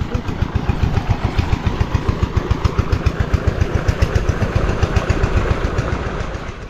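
A water pump engine runs steadily for irrigation, its rapid regular thumping firing pulses loud and close throughout with a broad mechanical rattle on top.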